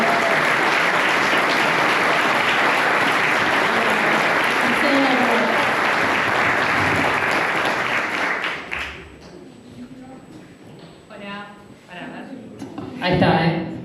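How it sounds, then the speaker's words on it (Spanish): Strong, dense applause from an audience at a talk on labour and the digital era, loud and steady for about eight seconds before abruptly fading out into quiet room sounds. "un fuerte aplauso para nuestro compañero"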